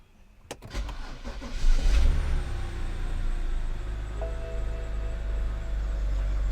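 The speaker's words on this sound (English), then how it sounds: "Let me see if I can quickly start this car." A BMW straight-six engine cranks with a sharp click and brief starter whirr, catches, and settles into a steady, close idle with a deep low hum.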